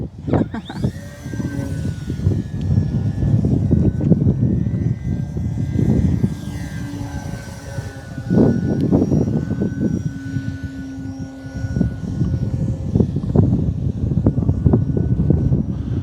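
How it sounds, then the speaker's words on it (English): An Arrows Bigfoot 1.3 m RC model airplane engine runs at full throttle, a loud, sustained buzzing drone that rises and falls slightly as the plane moves, with gusts of wind noise over the microphone throughout. "I like flying this plane"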